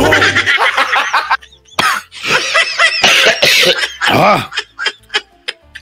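A person coughs repeatedly and loudly in a Philippine Congress session, in harsh bursts that break up and thin into shorter spasms toward the end.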